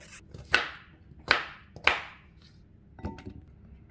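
A knife chops peeled sweet potato into small pieces on a cutting board, three crisp close knocks in quick succession followed by a softer fourth after a pause.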